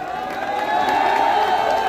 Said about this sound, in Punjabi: ਇੱਕ ਵਾਰੀ ਤਾੜੀਆਂ ਮਾਰ ਕੇ ਦੱਸਿਓ